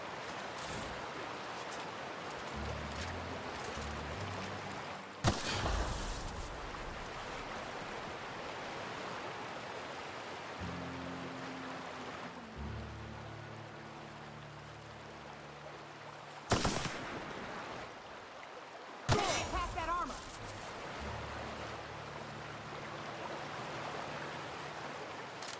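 Steady rushing water from a waterfall in The Outer Worlds plays continuously at moderate level, with occasional sharp game sound effects and low musical tones cutting in.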